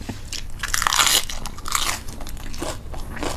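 Crispy salad bitten and chewed up close during a Thai mukbang meal, with loud wet crunches arriving in bursts and pauses over about three seconds and no speech.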